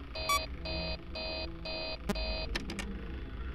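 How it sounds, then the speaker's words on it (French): Alarm in the horror game Five Nights at Freddy's 3: five evenly spaced electronic beeping bursts, steady and fairly loud, followed by a few short clicks over a low background hum. "Peut-être l'alarme, c'est pour dire qu'il est en haut."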